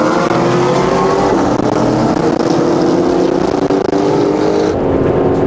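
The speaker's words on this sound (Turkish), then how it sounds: "Abi Ferrari F430 C7 Z06 Arkadan GTR geliyor." Several race cars, among them a Ferrari F430, Corvette C7 Z06, Nissan GTR and BMW M3, launch hard at an Istanbul street race, their engines roaring loud and steady with rising revs layered over one another throughout.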